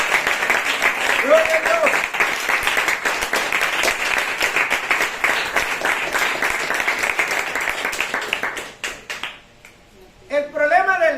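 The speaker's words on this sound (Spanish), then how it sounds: "Se le va a dar un aplauso al Señor, hermano, que está bien." A church congregation applauds during a Sunday sermon, sustained loud clapping lasting several seconds with voices mixed in, then tapering off as a brief spoken exclamation follows.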